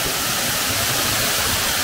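A hidden waterfall on Balabac sends out a loud, constant rushing roar of falling water, close by and filling the scene with dense hiss and no voices.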